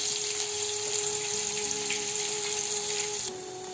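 Onions hitting hot oil with mustard seeds, urad dal and asafoetida for pudina masala poha, a steady loud sizzle and frying hiss that eases slightly near the end, with no talking.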